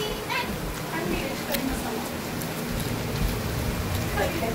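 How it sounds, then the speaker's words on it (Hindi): Steady rain pours down outdoors in a continuous loud hiss with scattered drop patters, filling the whole stretch evenly and close by. "बारिश हो रही है हमारे यहाँ"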